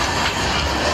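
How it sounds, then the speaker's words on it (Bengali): Moving train on the Guwahati–Sairang Express heard from inside a carriage, a loud continuous rumbling roar with rattling wheels and no voices. "এখন ট্রেনে উঠেছি চলছে"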